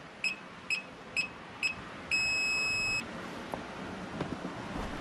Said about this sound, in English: You get those 3 quick beeps and then the long beep.